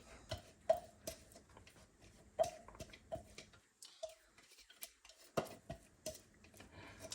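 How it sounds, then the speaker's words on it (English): Garlic scraped off a utensil into a pan while cooking oyster mushrooms: a run of sharp metallic taps and scrapes, some close and crisp, with brief pauses between clusters. "So we're gonna scrape some of this garlic in there."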